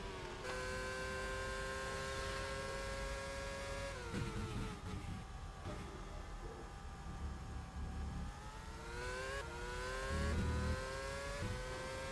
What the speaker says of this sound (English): Full throttle for Patterson down the straight